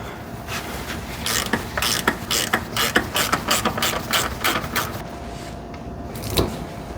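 A 3/8 drive ratchet works the transmission drain plug on a Ford F-150 with a 10R80 transmission, giving a run of close, sharp rhythmic clicks in quick bursts that slow and fade toward the end.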